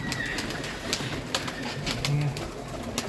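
Pigeons, including Ferozpuri pigeons, coo softly and repeatedly against a busy background of scattered clicks and bird noise, with no clear talking.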